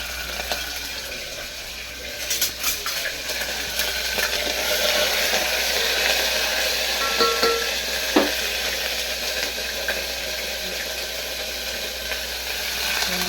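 Ginger paste sizzles steadily in hot oil with cumin and curry leaves for a ridge gourd curry, a continuous close frying hiss with a few faint clinks, and no talking.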